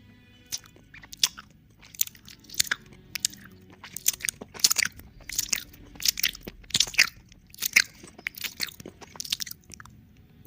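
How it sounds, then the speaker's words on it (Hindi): Wet crunching, tearing and chewing bites in a horror sound effect of flesh being ripped and eaten, repeated in irregular bursts, close and fairly loud with no talk. "एक ऐसी आवाज़ जो मांस के फटने और किसी चीज़ के चबाने जैसी थी"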